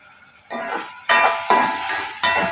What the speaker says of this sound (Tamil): இப்போ நம்ம கிண்டி விட்டுக்கலாம்.